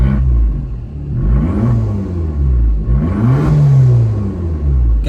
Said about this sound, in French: je vous fais déjà écouter un petit peu le son à l'échappement,